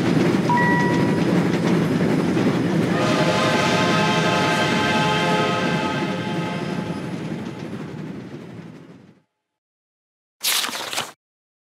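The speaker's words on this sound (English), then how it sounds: "All aboard! The Friendship Express is taking the ponies to Canterlot, where Princess Celestia is waiting for them" A cartoon train rolls along steadily in a My Little Pony Friendship is Magic app game, wheels clattering with a horn-like tonal layer, then slowing and fading before a short burst of sound at the end.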